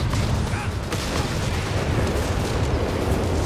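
Stuka dive bombers strike a pair of anti-tank guns in Company of Heroes 3: a dense, steady roar of explosions and rumbling blasts, loud and continuous, with a sharper crack partway through.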